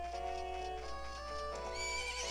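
The horse Epona in the video game The Legend of Zelda: Majora's Mask 3D gives a drawn-out neigh with hoof clip-clops beneath, set over steady game music and a constant low hum.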